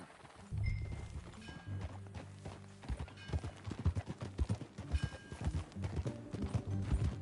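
Rhythmic clip-clop of horse hooves at a steady gait in the video game Red Dead Redemption 2, fairly close, with occasional creaks of tack and no speech.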